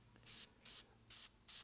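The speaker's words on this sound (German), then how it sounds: "Und jetzt mache ich hier ein bisschen Sprühfett drauf" Four short, evenly spaced bursts of spray grease hissing onto the tank lock of a Honda CB900 cafe racer motorcycle, close and fairly quiet.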